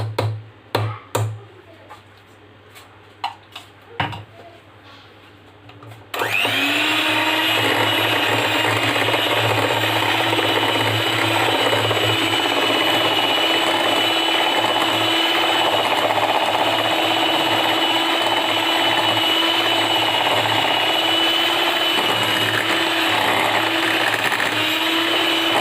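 An electric mixer beats cream with condensed milk. The mixer starts abruptly after a few quiet seconds of faint clicks and then whirs loudly and steadily, with no pause, through the rest of the clip.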